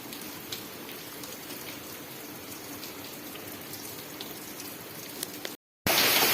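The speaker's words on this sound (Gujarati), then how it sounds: "કેવો પડે વરસાદ બહુ સરસ" Steady rain falling outdoors during a monsoon downpour over cotton fields, a continuous even hiss with scattered drop taps, broken by a brief cut near the end.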